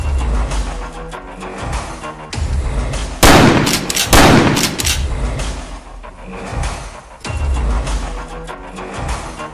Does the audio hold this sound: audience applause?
no